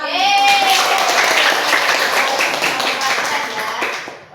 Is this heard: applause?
yes